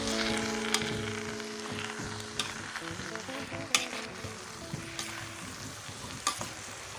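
Purslane is stirred in a pan with eggplant and holy basil over a steady close sizzle, with occasional sharp utensil clicks and scrapes and no voices.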